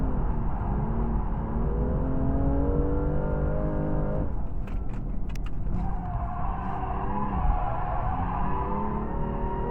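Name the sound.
car engine revving in fourth gear at track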